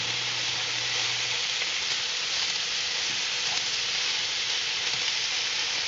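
Pork chops sizzle and fry in a pan with a steady, even hiss that holds unbroken at moderate level throughout, with no voices.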